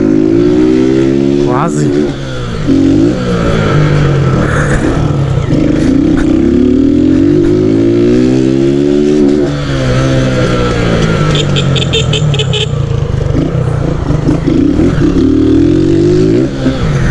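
A small motorcycle engine revs loudly and continuously, its pitch rising and falling through repeated throttle blips, with someone talking briefly over it.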